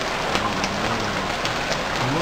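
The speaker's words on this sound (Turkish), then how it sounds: "Bu nasıl yağmur yağdı?" Steady hiss of rain pattering on surfaces in the survival game Stranded Deep, a dense, even wash of drops with faint scattered louder taps, no clear talking.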